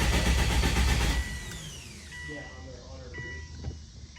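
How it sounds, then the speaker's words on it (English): Subaru WRX with a built turbocharged engine cranking to prime the turbo, a loud burst of mechanical churning for about a second that gives way to quieter rattles and faint whines, with no catch or start. "Right now I'm gonna try to prime the turbo a little bit."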